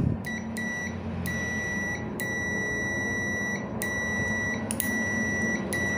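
A multimeter's continuity beep sounds repeatedly while testing a refrigerator thermostat, in irregular bursts, some quick doubles and some held longer, over a steady low background hum.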